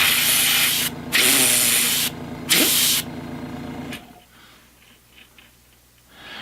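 Wet makeup is airbrushed onto a face for haunt makeup: three loud bursts of steady hissing spray with short breaks between them, then a quieter stretch of faint rubbing and clicking.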